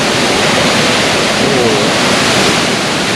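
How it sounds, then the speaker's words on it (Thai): Yung Thong waterfall in Na Yung–Nam Som National Park, Udon Thani, about 20 metres wide and 40 metres high, pours onto rocks in a loud, unbroken roar that fills the whole scene. "เห็นไหมครับ น้ำหยดลงหินตรงนั้นนะครับ"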